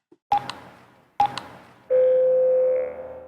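Two short keypad beeps from a hair salon's landline phone, then a longer steady tone held for about a second, clear and close with no talking.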